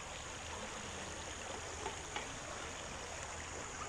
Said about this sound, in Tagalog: Ito ang ating BATIS.